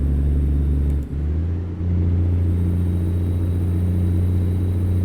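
A Freightliner Cascadia semi truck in American Truck Simulator drones with a steady, heavy low engine rumble and a faint turbo whine above it, holding nearly constant after a brief dip near the start.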